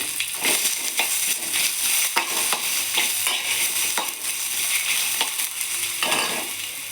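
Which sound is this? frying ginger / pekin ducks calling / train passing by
frying ginger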